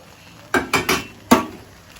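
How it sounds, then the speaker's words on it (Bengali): Vegetables, cashews and raisins tip into a pot of part-cooked rice for a vegetable pulao, giving four quick clattering clinks and thumps against the pot in a tight cluster, close and fairly loud over a quiet kitchen. "সবজিগুলো তুলে দিলাম আর কাজু কিশমিশটা তুলে দিলাম"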